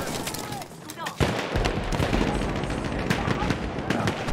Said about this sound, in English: Just go to town on the MG08s.